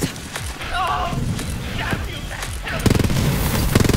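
Fireworks burst in the video game Borderlands 3 as a rapid cluster of loud, crackling explosions with sharp pops, under energetic game effects and voices.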